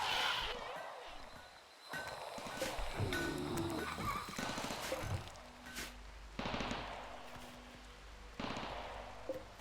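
Gunfire in the colony video game RimWorld: quiet, repeated bursts of rapid shots every few seconds under a person talking throughout.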